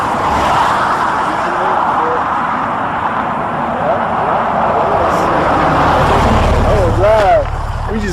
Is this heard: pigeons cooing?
no